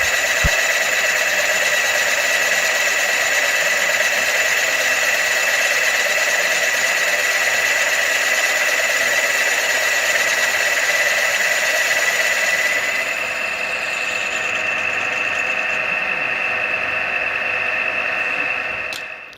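A boring head enlarges holes in a gear for a 4 1/2 inch scale Burrell traction engine, producing a steady, loud, high-pitched machining whine. The whine holds unbroken, drops slightly in tone partway through and then stops abruptly.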